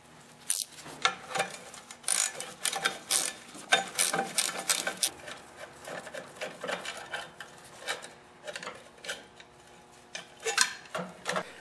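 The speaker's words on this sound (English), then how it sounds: "I need to remove the 7/16 bolt underneath the carb right here" Ratchet wrench clicking as a 7/16 bolt is removed from under the carburetor of an older 8HP Briggs & Stratton engine. Bursts of quick metallic ticks are broken by short pauses and occasional clanks of metal, close up, with no talking.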